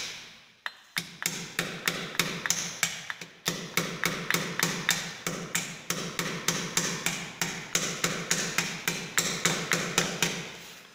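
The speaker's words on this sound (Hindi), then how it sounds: "हम इन बाकियों पे भी हम इस पर क्लिप्स ठोक देंगे" A hammer drives clips onto PVC wiring casing in a steady run of sharp, close taps, roughly three blows a second with brief pauses between sets, loud and clear with no talking.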